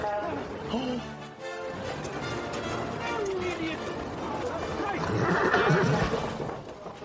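A carriage horse neighs loudly and repeatedly over ongoing talk and crowd noise, the whinnies rising in a long shrill stretch near the end.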